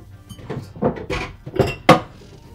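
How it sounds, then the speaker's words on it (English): Ceramic mixing bowls knocked and set down in a home kitchen while being gathered to beat egg whites: several close, bright clinks and clatters in an uneven sequence, the last one the loudest, with no talking. "I need to beat some egg whites, so I need a bowl for that"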